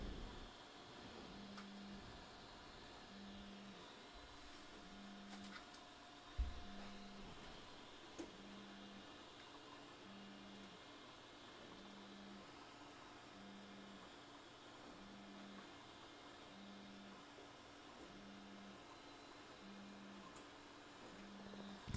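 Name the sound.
Artillery Sidewinder X1 3D printer moving while printing carbon PLA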